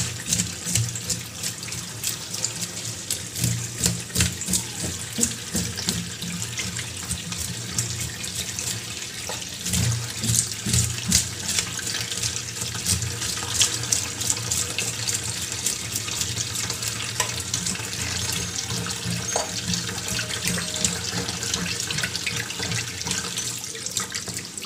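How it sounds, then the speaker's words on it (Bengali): Tap water runs steadily into a sink as hilsa fish are rinsed for a mustard hilsa dish, a continuous close splashing wash with small clatters and no talk. "ভালো করে পরিষ্কার করে ধুয়ে নিয়ে আমি কেটে নেব।"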